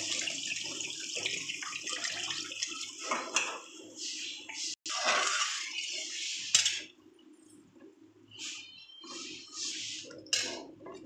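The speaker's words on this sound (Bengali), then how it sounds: "এবার আমি জল দিয়ে দিলাম।" Water splashes from a pouring stream into a cooking pot of fried spice paste, in a few separate bursts of hissing flow, close and fairly quiet in a kitchen.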